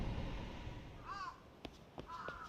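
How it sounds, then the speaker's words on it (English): A crow caws in a video game, two short, faint calls separated by a pause, set against quiet background noise and a couple of soft clicks. "Was that a crow?"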